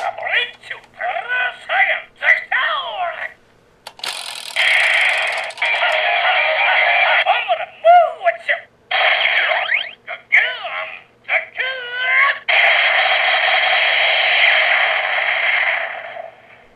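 Electronic sound effects from a battery-powered DX Gabu Revolver toy: warbling tones, beeps and sustained buzzing blares in bursts, fairly loud and close, with brief pauses between effects.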